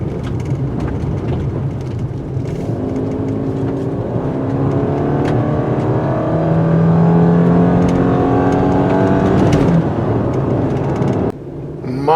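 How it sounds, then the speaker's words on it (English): A 2019 Subaru Forester with all-wheel drive driving on sand and dirt, its engine drone steady and loud inside the cabin, rising in pitch as it accelerates through corners, with gravel and road rumble underneath and a sudden drop near the end. "See how this all-wheel drive performs in the sand and dirt, especially when taking quick corners."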